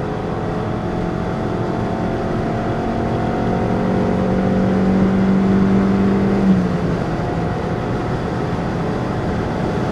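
Honda CRX ED9 cruising at speed on the Autobahn, heard from inside as a steady engine drone blended with road and wind roar, with a sustained tone that holds briefly before fading.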